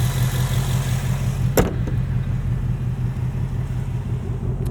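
A 2024 Ford Mustang GT Premium coupe's V8 engine runs steadily with a deep, loud, constant rumble, broken once by a brief sharp click.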